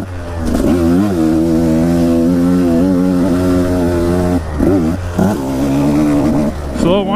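A 950 motorcycle engine revs and holds a strong, buzzing harmonic drone while riding off-road on a mountain trail, close and loud, with brief dips and throttle changes as the bike shifts and accelerates.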